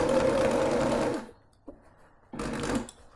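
A sewing machine stitches appliqué fabric onto a quilt in two close, loud runs of steady whirring, separated by about a second of near-silence with a single click.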